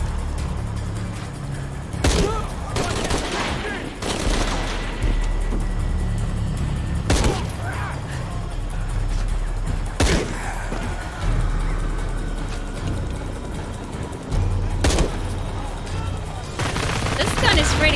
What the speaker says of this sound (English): Heavy fire.